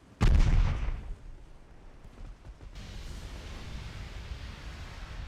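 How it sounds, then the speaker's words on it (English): A torpedo detonation in the naval warfare game Ultimate Admiral Dreadnoughts: a sudden loud, deep blast that decays into a rumbling roar, followed by a lower, steady wash of noise like churning water. "torpedo detonation"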